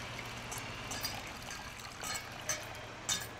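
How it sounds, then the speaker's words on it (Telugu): Water pours quietly onto leftover fruit juice pulp in a container as a faint, steady hiss and trickle, with a few soft splashes near the end. "ఇలా వాటర్ వేసేయాలండి."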